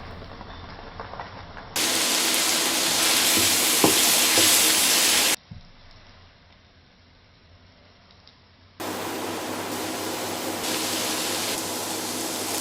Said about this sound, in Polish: Jak się podsmażyła, dodaj pieczary i odparuj je porządnie.